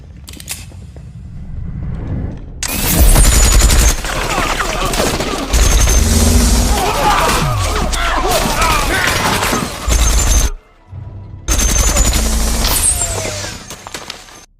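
Loud, sustained bursts of automatic weapon gunfire in a film battle, broken by brief pauses and mixed with booms and crashes.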